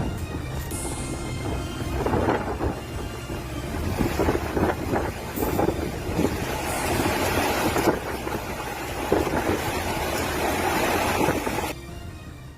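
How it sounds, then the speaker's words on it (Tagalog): Large waves roll onto the shore at Calayan, Cagayan, a loud, continuous broadband roar that swells and surges in heavy rumbling waves with no voices. "Mula sa bayan ng Calayan makikita at maririnig ang naglalakihang mga alon sa baybayin."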